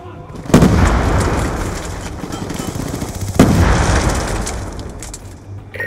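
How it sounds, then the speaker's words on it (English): A grenade goes off in the shooter game Black Ops 2 with two loud booming blasts about three seconds apart, set against continuous gunfire and battle noise. "Grenade!"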